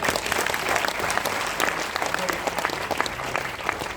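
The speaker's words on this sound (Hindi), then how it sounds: "तालियां बनता है यार" Audience applause at a smart value business event, a dense, steady wash of many hands clapping that holds loud for the whole stretch, with faint voices mixed in.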